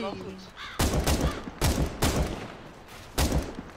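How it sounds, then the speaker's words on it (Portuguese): Loud gunfire in Counter-Strike: Global Offensive as shots are fired at doors: four or five sharp, booming bursts spaced about a second apart, with a little game noise before the first shot. "Ah, o Matina estava a dar tiros nas portas."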